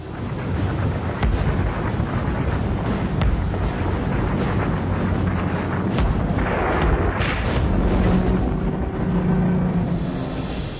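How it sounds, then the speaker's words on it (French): Anti-aircraft guns aboard the battleship Tirpitz fire at Lancaster bombers over a fjord, a loud continuous roar of overlapping booms and blasts with no break. "Depuis le pont du Tirpitz, les canons crachent un déluge de feu."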